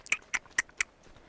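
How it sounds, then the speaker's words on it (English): Four soft, evenly spaced squelchy footsteps tread on wet, yielding ground in the video game Don't Starve: Shipwrecked, close by, with a quiet background. "The ground is all squishy though. I can hear it under my feet."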